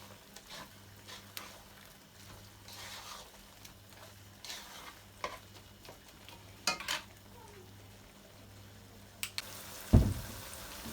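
Mixed seafood curry cooking in a pan before coconut milk is added, with quiet, steady sizzling, scattered spoon-stirring scrapes and a sharp clatter of utensils near the end.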